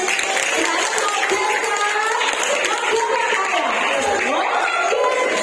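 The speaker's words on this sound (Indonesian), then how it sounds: "Tepuk tangan." Applause and cheering from a crowd of children at a Christmas church celebration, dense and continuous, with voices and chatter woven through the clapping.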